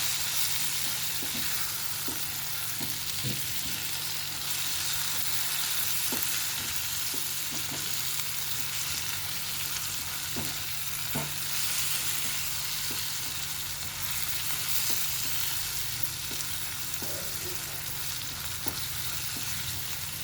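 Eggplant fries in a pan with cumin powder and garam masala being mixed in, a steady close sizzle with scattered soft scrapes and taps of the stirring spoon, no voices.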